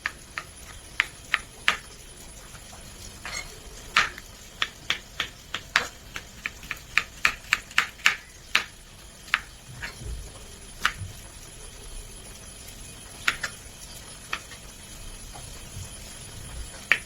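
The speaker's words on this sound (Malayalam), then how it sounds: "നമ്മളെ ഉള്ളിയും തക്കാളിയും പച്ചമുളകും എല്ലാം കട്ട് ചെയ്തിട്ടുണ്ട്." A knife chops onion, tomato and green chili on a board, giving soft, close taps in uneven clusters with short gaps over a quiet kitchen background.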